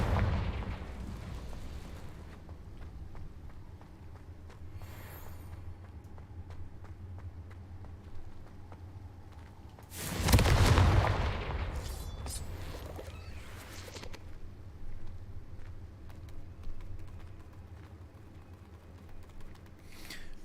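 Confringo blasting curses from Hogwarts Legacy detonate in a few explosive bursts, the loudest a heavy boom midway, over a low rumbling game ambience.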